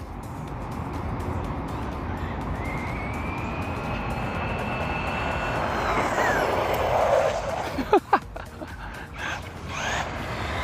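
A Traxxas Rustler BL-2s brushless RC car buzzes past outdoors, its whining motor rising and swelling as it nears, then a few sharp knocks as it passes, over steady wind-like background noise.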